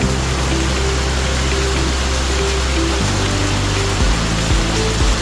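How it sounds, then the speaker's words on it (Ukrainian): Hail pounding down in spring in Yaremche, a loud, dense, steady rattling roar that fills the whole clip close by, with a low droning hum underneath and no talking. "жесть який град"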